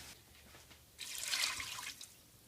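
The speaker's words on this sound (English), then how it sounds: "So let me get some water to throw in it." Water poured from a mason jar into a crock pot makes a short, soft splash and trickle that swells for about a second, then tapers off in a quiet room.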